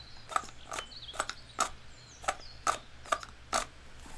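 Close, quiet ASMR handling of a fishing gear item as it slides in and out of a holster, giving a steady series of about eight crisp clicking, ratchet-like ticks with no talking.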